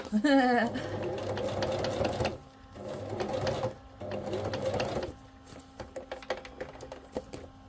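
A sewing machine stitches through a thick journal cover in several bursts, running loud at first, then pausing and restarting, with scattered clicks and handling noises as it stops, and a voice briefly heard at the start.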